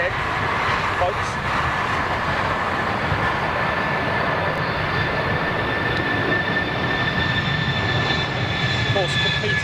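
Jet airliner engines, an Airbus-like narrowbody such as a CS300 or CS100, roar steadily and loudly throughout with a continuous broadband rumble and a faint high whine.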